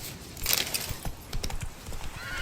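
A horse in the video game The Witcher 3: Wild Hunt gives a short whinny, then hooves clip-clop in a quick irregular rhythm, close and fairly clear.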